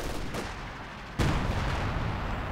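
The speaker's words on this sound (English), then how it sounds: "nice hit from the howitzer" A howitzer fires in the battle game Company of Heroes 2, one sharp, loud blast with a booming tail over a steady wash of distant combat noise.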